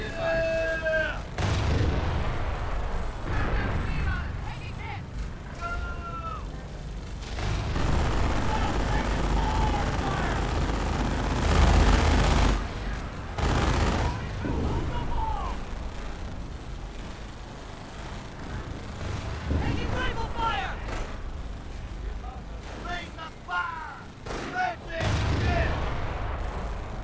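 Artillery and rifle gunfire from the Company of Heroes strategy game rumble in dense, overlapping bursts and booms across the whole stretch, with voices talking over the battle.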